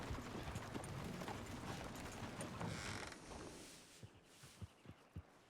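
Horse hooves clip-clop in the Red Dead Redemption 2 video game, a few distinct, fairly close thuds in the last seconds after a dense stretch of mechanical clatter and background noise.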